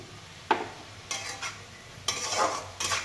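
Mutton for a traditional Bengali khasir mangsho jhol frying in a pot while being stirred, four separate scraping strokes with a soft sizzle between them, fairly close and quiet.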